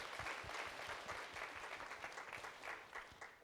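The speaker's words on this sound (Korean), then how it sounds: "큰 박수로 한번 격려하겠습니다" A church congregation applauds warmly to welcome a deacon, giving a short burst of dense, steady clapping at moderate distance.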